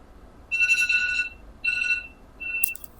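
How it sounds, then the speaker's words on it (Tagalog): An alarm goes off during an indoor interview, sounding as three bursts of bright, repeating electronic beeps with short pauses between them, fairly loud and close. "Nag-alarm. Paano ng alarm mo?"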